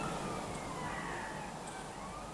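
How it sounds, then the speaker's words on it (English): Emergency vehicle sirens in West London, a faint, distant wail drifting under steady urban background noise throughout. "Still seems to be a hell of a lot of sirens flying around."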